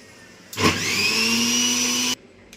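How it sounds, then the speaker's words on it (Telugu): A kitchen mixer grinder whirs loudly for about a second and a half, blending coriander leaves and water into a paste, starting abruptly with a rising whine and cutting off sharply. "దీంట్లో కొత్తిమీర వేసి కొంచెం వాటర్ వేసి ఇప్పుడు దీన్ని కూడా పేస్ట్ లాగా చేసుకుందాం, మిక్సీకి వేసుకుందాం"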